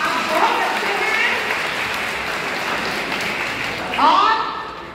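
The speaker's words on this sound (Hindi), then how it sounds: "पुनः एक बार अपने लिए ताली बजाइए" Audience applause at a district-level school science exhibition, a steady roll of many hands clapping with people talking and calling over it, swelling briefly near the end.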